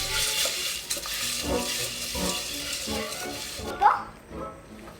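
Food is stirred and mixed in a mini cooker, with soft scraping and clinking of a spoon against the pot over a light sizzle, fairly close and steady, ending in a brief louder knock.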